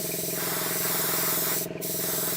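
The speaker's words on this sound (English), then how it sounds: "Quick blowback, just to agitate everything together, and then very quickly, very gently, a couple of light coats." An airbrush sprays light coats of paint onto a 1/72 scale Bandai Y-Wing model kit, a steady close hiss that runs without pause and dips briefly near the end.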